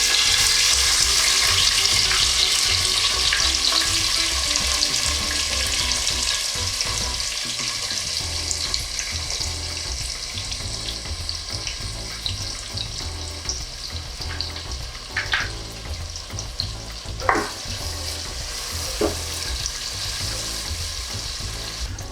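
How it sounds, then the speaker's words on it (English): Sliced onions sizzle steadily in hot oil with whole cinnamon, cloves and cardamom, a loud continuous frying hiss that softens slightly over time, with a few sharp pops and clinks of stirring near the end. "now we need to fry this onion till it turns golden brown."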